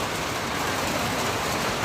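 Heavy rain pours down in a steady, dense broadband wash with no letup, close and fairly loud, with no voices heard.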